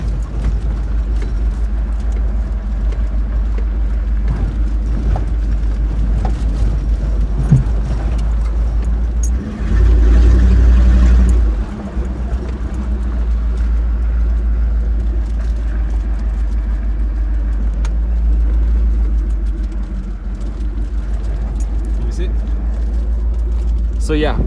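A $300 Dodge Durango rolls down a steep, rough mountain trail, its engine and tyres a low continuous rumble with a brief louder surge midway, while people talk throughout.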